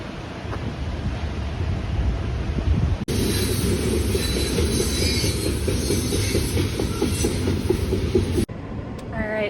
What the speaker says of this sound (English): There's a train going by up there